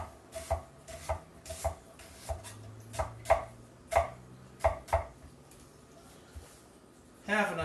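A knife chops down through an onion onto a wooden cutting board in a home kitchen while dhal is prepared, giving a steady run of sharp, close taps with short pauses between them.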